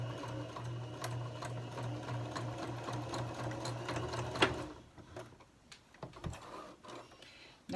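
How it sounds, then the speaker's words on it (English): A sewing machine stitching down the folded end of a fabric bow tie runs in a steady, close whirring hum for about four and a half seconds, then stops, leaving faint clicks and handling noises. "I'll sew it down right here"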